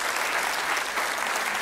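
A theatre audience at a comedy show claps loudly after an opera aria, a thick, continuous burst of applause at full volume from start to finish.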